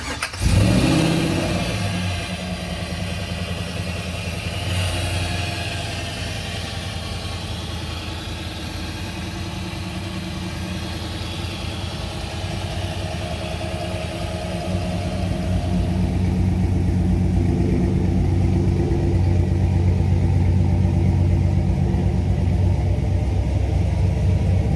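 A 1986 Chevrolet K-10 pickup engine cranks and catches, settling into a deep rumbling idle, then revs up and drones steadily as the truck drives off.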